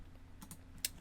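A password typed on a computer keyboard: a few faint, soft key clicks in a quiet room, with one crisper tap near the end.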